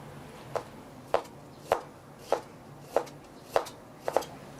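Sharp, evenly spaced knocks or cuts land about every half second, eight in all, close and crisp against a quiet background, with no talking, while frozen palm fruit is peeled.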